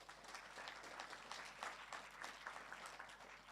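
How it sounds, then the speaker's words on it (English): Faint, distant applause from a conference audience after a panel introduction, a steady soft patter of clapping heard at low level throughout. "If we can give them a round of applause,"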